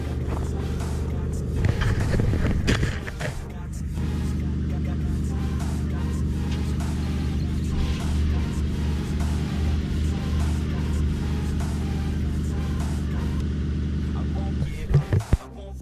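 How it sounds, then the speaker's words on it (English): A Ford Mustang GT engine cranks and catches on a winter cold start, then settles into a steady, rough idle that runs on without stopping. "Why not get a cold start on this one too?"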